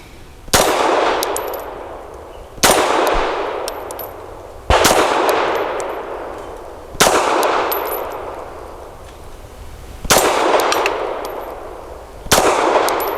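Six loud shots from a Tisas Bantam 9mm pistol striking a spinning steel target outdoors, spaced about two seconds apart, each a sharp crack with a metallic ring that decays slowly.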